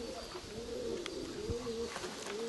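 Nikolaev pigeons coo softly and continuously outdoors, their repeated throaty calls rolling over quiet background noise with an occasional faint click or flutter.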